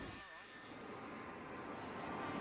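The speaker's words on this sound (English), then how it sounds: "The British Aerospace 146 you see taking off is a short-haul airliner" A British Aerospace 146 short-haul jet airliner takes off at an air show, its engine roar a steady broad rumble that holds loud throughout, with a faint voice beneath it.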